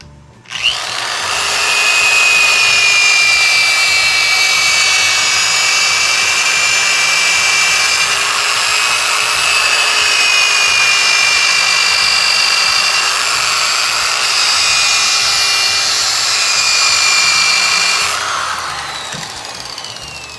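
A power sander starts up and runs loudly on wood for a long stretch, a high steady whine with a grinding edge, then stops.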